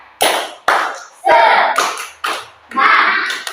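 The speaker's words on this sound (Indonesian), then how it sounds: "Sebelum kita berdoa, kita tepuk tangan dulu." A class of children clapping together in a rhythmic cheer, several bursts of claps separated by short gaps, loud and close, with young voices calling out between the claps.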